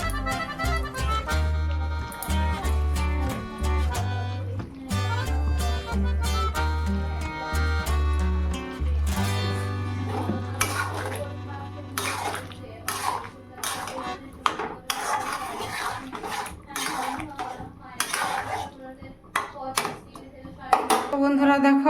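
Potato and cauliflower being stirred in a pot with garam masala and ghee, a run of scraping and clinking utensil strokes against the metal, close and fairly loud, over a low steady hum.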